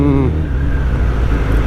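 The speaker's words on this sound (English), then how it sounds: "Slow moving traffic is there." Slow-moving road traffic passes around a ZX-10R motorcycle on a Tamil Nadu–Kerala ride, a dense continuous engine and road rumble loud in the foreground, with a voice speaking briefly over it at the start.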